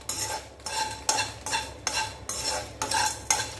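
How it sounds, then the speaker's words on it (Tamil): Dried red chillies and rock salt are stirred in a kadai with a steady, rhythmic scraping and rattling, about two strokes a second, close and clear with no voices. "அதில் வந்து வத்த மிளகாவும் கல்லுப்பும் சேர்த்து வதக்கிறேன்."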